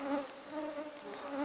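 Mosquitoes buzzing in a Danish forest, a thin whining hum from nearby insects that swells and fades in a few pulses, fairly faint and alone.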